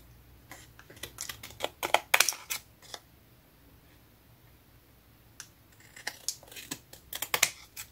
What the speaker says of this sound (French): Notre ATC, on va la couper maintenant